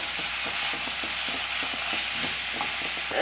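Whole coriander seeds stirred in a hot pan for an egg curry, a steady sizzle broken by regular scraping strokes of a spoon, close and continuous with no talking.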